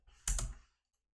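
A single key press on a computer keyboard during embroidery digitizing software work, one short close click and then quiet.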